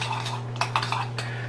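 A utensil stirs condiment into prawns in a pan, soft scraping with a few light clinks against the dish, close and quiet over a steady low hum.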